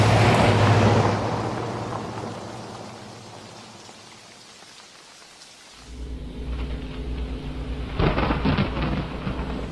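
A thunderstorm opens with a loud, deep rumble of thunder over heavy rain, fades to a softer steady downpour, then swells again with another low roll of thunder and dense rain.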